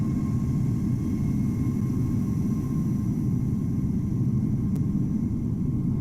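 Heavy airliner arriving at Amsterdam Schiphol in Microsoft Flight Simulator, heard as a constant low engine rumble and roar that holds steady with no talk.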